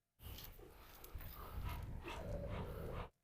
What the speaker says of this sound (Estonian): Ta uriseb Hektori peale